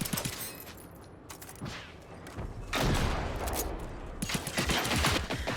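AG4 rifle in the video game Generation Zero firing loud rapid bursts of automatic gunfire, fast cracking shots with short pauses between volleys, close and dominant with no voices.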